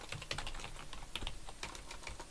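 Rapid, steady clicking of keys typed on a computer keyboard, close and fairly soft, with no voices.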